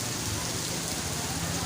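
Heavy rain pours down in Taxila, a dense continuous hiss of water striking surfaces, loud and unbroken through the short stretch.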